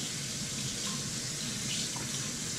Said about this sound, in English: Rinse it out a minute like this.